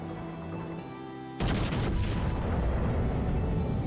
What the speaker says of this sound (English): Let's see, Kremlin guns versus 1 Liberty ship.